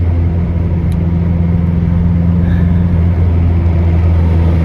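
A turbocharged Honda Integra with a B18 engine drives on the road, its engine a steady low droning rumble with little audible change in pitch.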